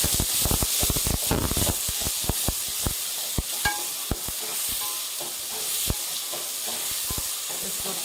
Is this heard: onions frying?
yes